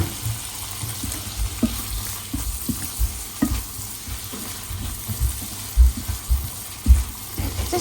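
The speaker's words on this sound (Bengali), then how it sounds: "হালকা একটু ভাজলেই হবে, মানে হালকা একটু সফট হলেই হবে" Butter frying in a pan with light salt, stirred with a utensil: a soft steady sizzle with intermittent scraping and clinking strokes, close and moderately loud, with no talking.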